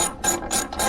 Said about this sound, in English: you want to get this bottom bolt and take it completely out